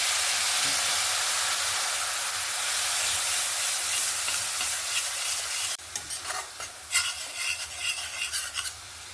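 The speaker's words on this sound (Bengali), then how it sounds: "গুঁড়ো মশলাটাকে ভালো করে 2 মিনিটের মতন আমি ভালো করে নেড়ে নিয়েছি।" Ground spices stirred in hot oil in a pan with a splash of water, for a Punjabi-style fish curry: a steady loud sizzle and hiss with scraping stirs, turning into choppier, uneven frying bursts in the second half, no talking.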